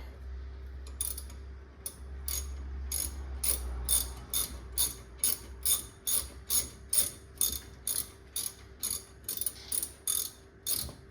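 A ratchet clicks in fast regular bursts while bolts are backed out on a Ford Focus brake rotor, close and clear over a low hum, starting after a short pause.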